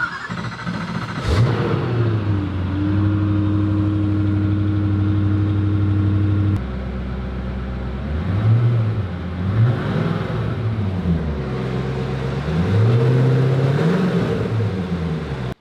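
A Koenigsegg Agera RS Phoenix, a 1360-horsepower hypercar, starts with a sharp crank and a loud catch into a rumbling idle, then settles and gives several rising and falling revs, close and loud, with no talk.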